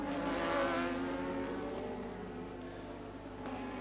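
Formula One cars from 1984 race at the British Grand Prix at Brands Hatch, including Lauda's Marlboro McLaren, with loud, continuous high-revving engine whine that swells early and then holds steady as the cars sweep downhill through a bend.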